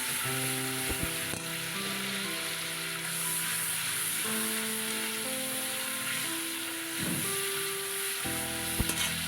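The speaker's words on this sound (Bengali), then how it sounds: "এবার মশলাটা বেশ ভাজা ভাজা হবে এরমভাবে একটু কষিয়ে নিতে হবে যাতে তেল ছেড়ে যায় মশলা থেকে" Salt, turmeric and chili being fried in hot oil, a steady close sizzle with occasional stirring scrapes, continuous for several seconds without speech, with faint tonal sounds in the background.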